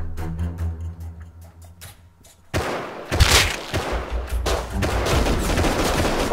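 Rapid bursts of gunfire from a light machine gun in the survival video game Rust, loud and close, breaking out suddenly after a quieter stretch of low droning tones and continuing in dense, overlapping volleys.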